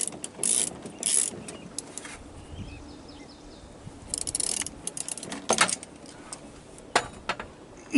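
Intermittent ratcheting clicks and ticks of a Mercedes-Benz W123 alternator pulley being turned by hand while drive belt tension is adjusted, close and sparse, with scattered metallic taps.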